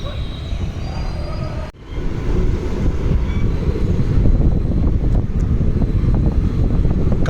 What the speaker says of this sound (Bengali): এক হাত দূর দিয়ে গাড়ি যাচ্ছে আর এক হাত দূর দিয়ে ট্রেন যাচ্ছে।